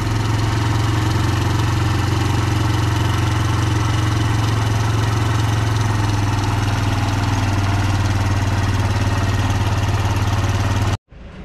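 A motorcycle engine idles unevenly with a suspected carburetor fault, a loud, steady low drone running close and continuous for about eleven seconds before abruptly cutting out near the end.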